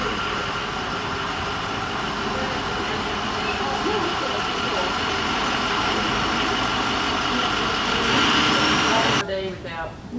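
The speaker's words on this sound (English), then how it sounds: "Just got off the bus and you can hear the bus rattling in the background." A bus rattles and rumbles continuously close by with a steady mechanical drone, while a voice talks over it, before the noise cuts off abruptly near the end.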